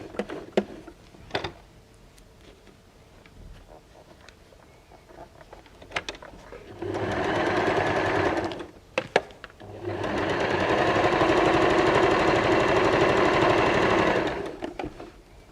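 A sewing machine runs in two sustained bursts of rapid stitching, with quieter handling clicks and taps before and between them.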